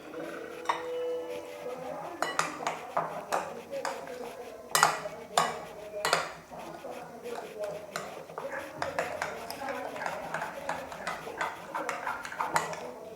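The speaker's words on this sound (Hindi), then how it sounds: "नमक मिर्च, ये सारे पेस्ट इसमें डाल के अच्छी तरह से मिक्स कर लूँगी।" Spice paste with salt and chili mixed in a bowl for chicken broast, with irregular clinks and scrapes of a spoon against the bowl, fairly quiet and close.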